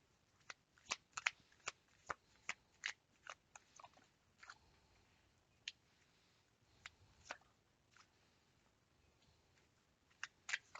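Tarot cards are shuffled close up in a quiet room, a string of crisp, separate riffs and snaps at irregular intervals with near silence between them.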